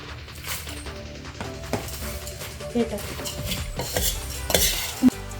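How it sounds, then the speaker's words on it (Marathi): Spoon stirring bhelpuri chutney in a bowl, with scattered clinks and scrapes against the bowl in an irregular rhythm, close by and moderately loud, with some background noise. "आता हे असं मिक्स करून घ्यायची"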